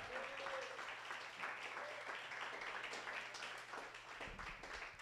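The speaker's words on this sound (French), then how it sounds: "Alexandre Préfontaine, on l'applaudit" An audience at a comedy show applauds a comedian, a dense, steady roar of many hands clapping throughout, close and fairly loud.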